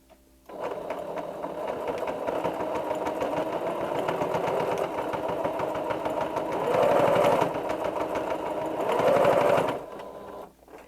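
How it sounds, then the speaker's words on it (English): A sewing machine stitches back and forth across a fabric gift bag handle in a fast, steady mechanical whir, close and continuous for about ten seconds, swelling briefly twice as it speeds up. "then I am simply going to stitch it"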